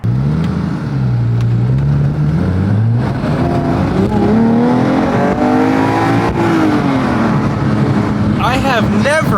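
A 2018 Porsche 911 GT3 Touring's engine revs up loudly through rising gears, its pitch climbing and dropping with each shift, close and dominant while a voice talks briefly near the end.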